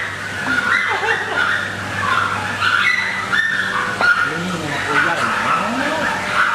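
Several puppies whimper and whine in high, wavering cries, mixed with short yaps and barks in a busy, close-up jumble inside a house.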